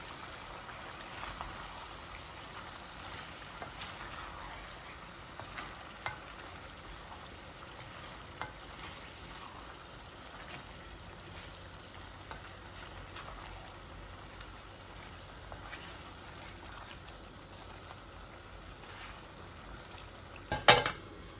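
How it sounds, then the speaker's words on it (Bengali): Chicken liver curry fries in a pan with a faint, steady sizzle. A few quiet clinks and a short louder knock come near the end. "একটু ভাজা ভাজা হোক, তারপর চিকেনটা দিয়ে দিব।"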